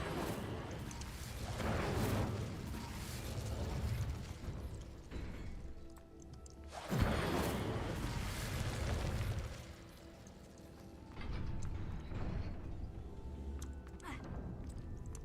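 Fiery bursts roar in waves from the Incendio fire spell in Hogwarts Legacy, with a sharp thump midway, while game voices speak underneath.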